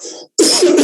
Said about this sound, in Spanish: Van a disculpar mi tosera